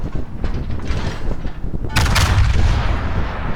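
Loud, booming naval gunfire in the World of Warships game as fire support hits a battleship, a rumbling roar that swells into a heavy blast and sustained thunder, close and dense.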